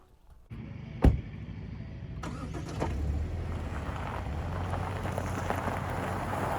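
A new Subaru XV driving on the road, a steady low rumble of engine and tyre noise building after a brief thump and holding constant, with no voices.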